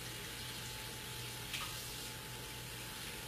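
Water runs steadily from a kitchen tap while bread dough is being made, a continuous close hiss with one faint brief clink partway through.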